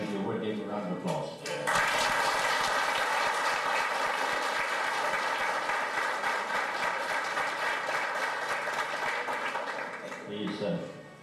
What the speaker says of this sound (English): I would ask you if you would give a round of applause.